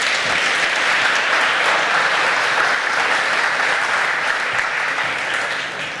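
Conference audience at a 2015 Pittsburgh event applauding a presenter, a dense, sustained burst of many hands clapping at steady volume for the full stretch, tapering only slightly at the end.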